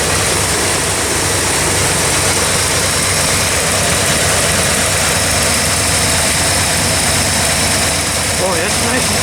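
A 1965 Chrysler 300L engine idling steadily and smoothly, a constant broadband rumble with no breaks, heard close up for about nine seconds.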